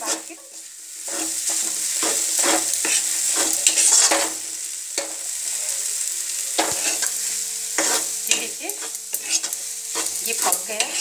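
Ground potato khichdi mixture cooking uncovered in a pan, steady close sizzling and frying with repeated scraping and stirring strokes of a spoon throughout.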